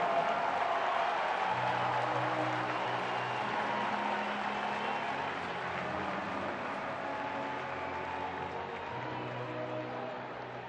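Baseball crowd at Wrigley Field in Chicago applauding a batter, a broad, steady wash of clapping and crowd noise that eases slightly toward the end, with a low hum and faint ballpark sounds underneath.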